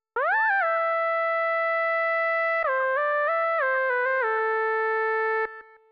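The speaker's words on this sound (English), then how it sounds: "Here is what that synth lead sounds like on its own." A solo synth lead from a West Coast hip hop beat plays a smooth, whistly portamento line, gliding up into a held tone and then stepping through a few sliding notes, clean and alone with no other instruments.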